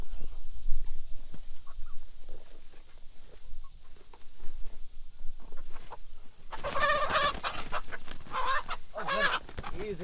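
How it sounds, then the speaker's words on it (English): Rooster clucking and squawking loudly near the microphone in the last few seconds, a burst of harsh calls after quieter rustling and faint background noise. "that actually looks like it might be a rooster"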